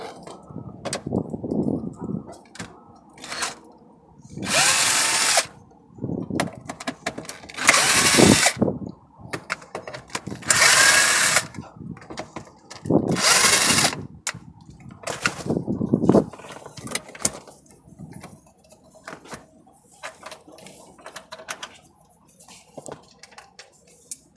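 A power tool with a 10mm socket removes the bolts holding the stereo of a Toyota Camry, giving several short, loud, whirring bursts separated by quiet gaps, with ratcheting clicks and handling noise between them.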